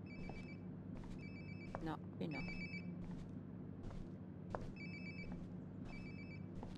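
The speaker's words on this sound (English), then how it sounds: "Sounds like my phone is definitely nearby." Phone ringing nearby in the video game Life is Strange: Before the Storm, repeated bursts of a bright ringtone at steady intervals, fairly faint, under a short spoken exchange.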